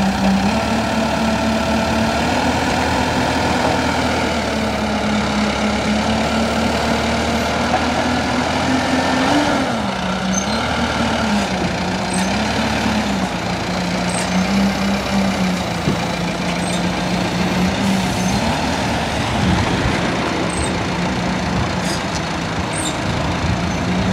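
A car transporter truck's engine idles and runs steadily while it moves a vehicle back to make room during loading, a continuous loud low rumble with a slightly wavering pitch and no talk.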